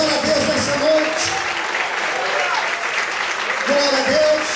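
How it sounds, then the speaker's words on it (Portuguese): A church congregation applauds steadily throughout, a dense wash of many hands clapping with a voice faintly audible beneath it. "Você pode aplaudir e exaltar a Deus nessa noite."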